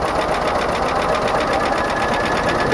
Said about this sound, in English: The first time in 1 year, the car started up.